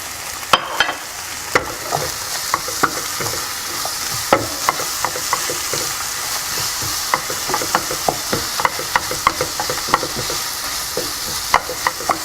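Capsicum fries in a pan for Singapore noodles with a constant close sizzle, while a utensil scrapes and knocks against the pan in irregular, frequent stirring strikes.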